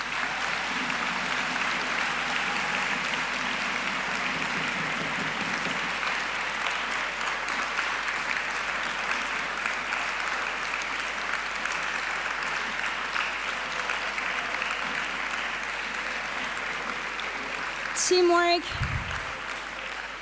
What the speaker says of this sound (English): Please applaud them because they made an amazing job.